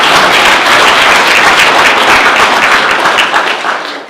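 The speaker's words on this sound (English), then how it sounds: "Give them a clap" Loud, dense clapping from an audience at a county economic development event, sustained for several seconds and then starting to fade out at the end.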